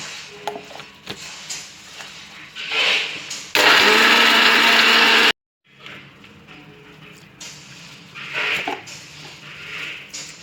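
A mixer grinder blends mint chutney (thuvayal) ingredients with rock salt, a loud steady whirring burst lasting about two seconds that stops abruptly, surrounded by quieter kitchen handling noises.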